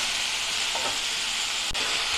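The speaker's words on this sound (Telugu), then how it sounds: "ఇది 2 మినిట్స్ ఫ్రై చేస్తానండి నేను." Chayote pieces frying in oil in a pan, a steady close, loud sizzle with one brief clink of a utensil partway through.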